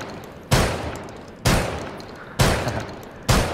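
Four loud, booming shotgun blasts from an M1014 in Rainbow Six Siege, evenly spaced about a second apart, each with a sharp attack and a long decaying tail, with no other sound between.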